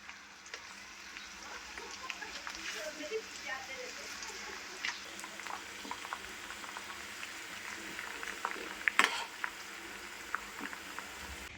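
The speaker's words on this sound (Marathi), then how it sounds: "हे सगळं ब्राऊन होईपर्यंत या तेलाला उकळी काढून घ्यायची आहे" Hibiscus flowers, tulsi and plenty of curry leaves frying in boiling homemade hair oil, a soft bubbling sizzle with scattered crackles and pops, fairly quiet and close, with occasional louder spits.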